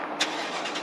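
A 2017 Mustang with a 5.0 engine and manual transmission fires up, a brief, close, rumbling burst with a sharp catch at the start, heard alone without any talking.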